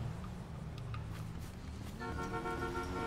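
A car horn honks from a distance off a main highway at night, starting as a faint sustained toot and then sounding louder and steadier for the last second, over low road and engine rumble with no talking.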